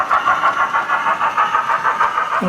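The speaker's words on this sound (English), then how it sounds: "if you push F16, you get a louder chuff" Rapid, even chuffing from a model 9F steam locomotive's sound decoder running at its louder chuff setting, a steady rhythmic pulse heard close and alone.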